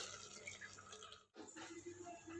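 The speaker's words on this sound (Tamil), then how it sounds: "இப்போ 4 கப்பு தண்ணி ஆட் பண்ணுறேன்." Four cups of water poured into a cooking pot for vegetable biryani, a quiet splashing gush that briefly cuts off midway and then resumes, close with no talk.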